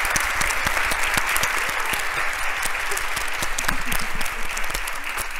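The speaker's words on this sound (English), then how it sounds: "let's give a round of applause to our panelists" A live audience applauds podcast panelists at the close of a panel discussion, a dense, steady wash of many hands clapping that holds at even loudness throughout.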